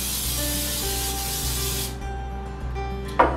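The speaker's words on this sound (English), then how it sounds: "take your muffin tin and spray it with some pan baking spray" A continuous hissing spray from an aerosol can of baking spray into a muffin tin, close by, stopping abruptly near the end with a small clunk.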